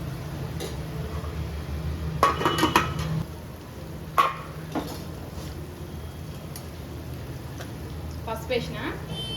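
Tomato pieces tipped into a pan of turmeric-coated cooking, with a few sharp clattering bursts of utensils against the pan over a low steady kitchen hum.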